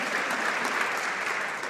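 Members applauding in the House of Commons chamber during Question Period, a brief, dense burst of clapping that stays loud and even from start to finish.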